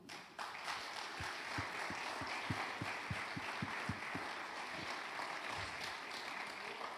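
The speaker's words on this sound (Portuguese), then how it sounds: "Vamos aplaudir meu pai?" Church congregation at a Thursday evening service clapping in a steady rhythm, each clap a sharp, evenly spaced beat over a dense background wash of crowd noise, heard at moderate distance.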